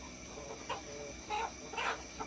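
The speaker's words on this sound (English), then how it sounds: "He's a good looking chicken." A young rooster clucking in a few short bursts, close and moderately loud over a steady background hum, with no talking.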